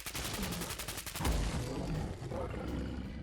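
Rapid automatic fire from a retro AR rifle in a Fallout 4 mod, a dense close burst of shots aimed at a Deathclaw, with a deep creature roar swelling midway under the continuing gunfire.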